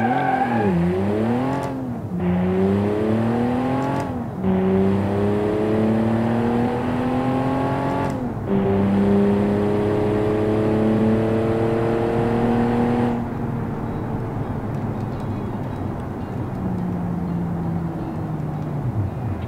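A Gowdland 875 car in the Automation game accelerates hard on a quarter-mile run, its engine revving up through several gear shifts with brief drops between them, then the throttle lifts and the engine note falls away near the end.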